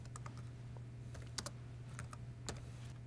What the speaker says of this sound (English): I'm going to type in kVARH.